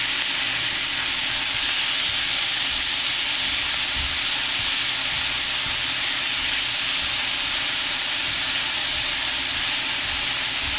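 Halved cherry tomatoes sizzle in a hot pan, a loud, steady broadband hiss that stays constant throughout, with no talking.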